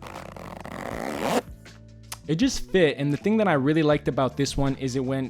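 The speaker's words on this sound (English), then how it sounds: "This zipper sound is pretty much Duffel Bag Empty 5" A zipper sound effect, Duffel Bag Empty 5, runs as a loud, dense zip for about a second and a half with a rising build-up, followed by a pause and then a person talking.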